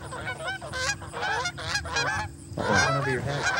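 A flock of eight geese with wings set, coming down over a pond during a Southern Michigan goose hunting opener, honking loudly and repeatedly in overlapping calls close overhead.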